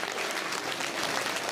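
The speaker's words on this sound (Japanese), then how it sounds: "みんな拍手をどうぞ" A dense burst of audience applause at Turtle Talk in Tokyo DisneySea, a steady, even wash of many hands clapping throughout.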